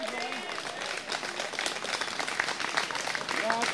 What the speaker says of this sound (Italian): Fategli veramente un bel caloroso applauso,